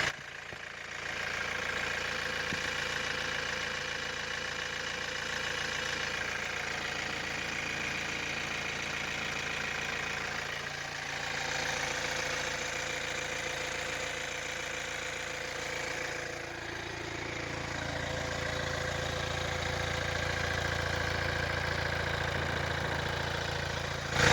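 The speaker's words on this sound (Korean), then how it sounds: "엔진 소리가 들리기는 하지만" A Hyundai All New Tucson engine in good condition idles steadily at close range, a low continuous hum with a slight shift in tone partway through, no voices.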